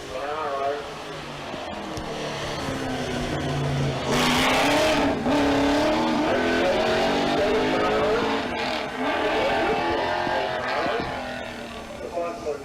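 V8 Holden Monaro race car at a sprint event, a loud, rough engine roaring and revving hard as it accelerates past, with a commentator talking over it.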